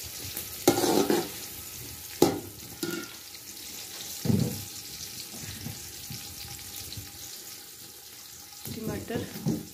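Food frying in a pan over a wood-fired clay stove, a soft steady sizzle with intermittent stirring and clatter, louder bursts near the start and end.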